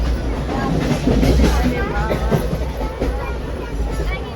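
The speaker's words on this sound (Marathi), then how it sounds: "आता बघा ट्रेनमध्ये बसतोय" Passengers ride inside a train heading toward Nashik, with a steady low rumble and rattling of the carriage running throughout under a murmur of voices.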